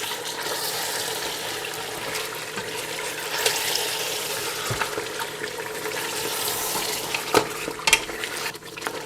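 Fried masala with yogurt for Delhi-style beef nihari is stirred in a pan, giving a steady sizzle with scraping spoon strokes and a few clinks near the end, close and moderately loud, without talk.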